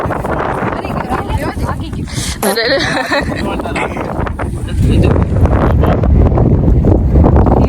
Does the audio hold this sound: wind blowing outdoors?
yes